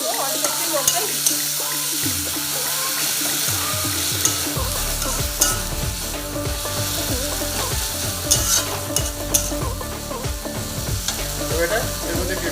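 Ground ginger, garlic and onion paste sizzles loudly in hot oil for a home-style Kolkata chicken curry, with steady frying hiss and repeated stirring scrapes throughout.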